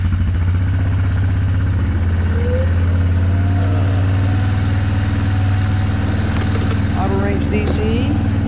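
A Yamaha Wolverine 350 ATV engine runs at a steady, loud idle close by, a constant low rumble throughout, with faint rattles and brief clanks near the end.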